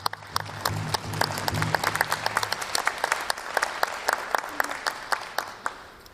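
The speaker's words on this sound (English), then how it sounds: "let's give them a round of applause" An audience at a chiefs' assembly claps for the youth. The clapping is sparse and uneven, with distinct individual claps under a speaking voice that carries through the opening seconds.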